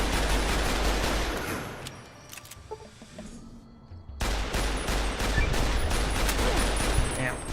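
Shotgun blasts and surrounding gunfire in the video game Fallout New Vegas, loud and dense bursts that drop to a quieter gap around the middle before firing resumes; a voice speaks briefly.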